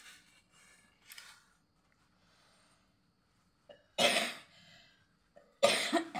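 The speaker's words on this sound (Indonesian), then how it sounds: "batuk ya." A woman coughs several times, a couple of faint early coughs followed by two loud, harsh bursts close by, with quiet pauses between.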